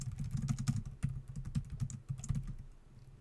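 Quick keystrokes clatter on a computer keyboard as shortcuts are typed into a note-taking app, a close, quiet run of irregular clicks in bursts with brief pauses and no speech.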